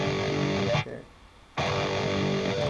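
Distorted electric guitar power chord from a riff, played twice: a loud sustained chord, a brief silent gap, then the chord rings again and cuts off.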